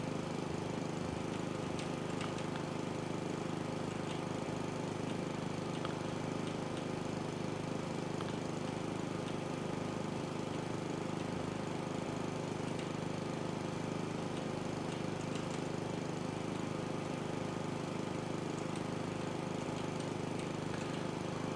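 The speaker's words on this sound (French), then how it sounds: "Tondeuse est passée." A lawn mower runs in the House Flipper renovation game, a steady droning engine hum with a rough buzzy texture, constant and unbroken throughout.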